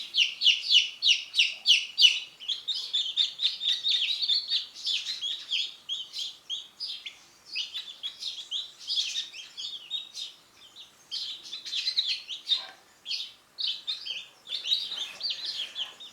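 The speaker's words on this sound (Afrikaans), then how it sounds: "Hierdie gepiep van hierdie ou kykentjies roep na al die voëls." Young chicks peeping and wild birds chirping outdoors, a dense run of rapid high-pitched cheeps at first that breaks into scattered bursts and pauses, fairly close and clear, with no talk.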